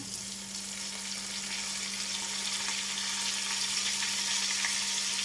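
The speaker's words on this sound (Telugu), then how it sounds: "ఆనియన్స్ అనేవి బాగా వేగి బ్రౌన్ కలర్లోకి వచ్చాయండి" Onions sizzling and frying in a pan for egg pulao, browning in hot oil with a steady, dense crackle that stays even throughout, no talk.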